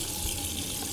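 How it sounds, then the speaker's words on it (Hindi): Scalding hot water gushing steadily from an outdoor tap in sweltering Death Valley heat, a continuous broadband hiss with no pauses. "यहाँ का पानी भी खोलता हुआ आ रहा है।"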